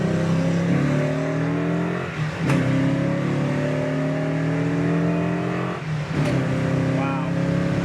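A Hemi Challenger engine revs hard through a gear, the rising pitch cut by two quick shifts before climbing again, loud and close from inside the car, with no talk over it.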